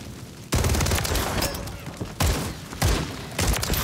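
Bursts of gunfire in a Call of Duty MWIII gun game match, loud rapid volleys arriving in several separate bursts with brief lulls between them.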